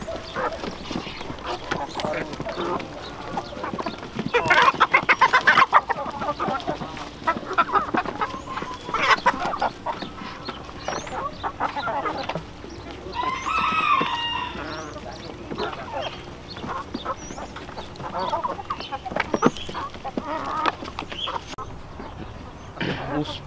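Well-fed, plump farmyard chickens cluck and call near and far, with a honking or quacking bird joining in, while people talk steadily over the flock throughout.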